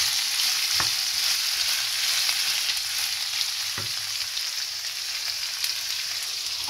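Onions fry in olive oil in a pan, giving a continuous close hiss and crackle with a couple of faint knocks against the pan, and no voices.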